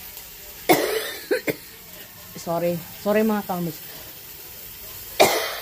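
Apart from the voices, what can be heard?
coughing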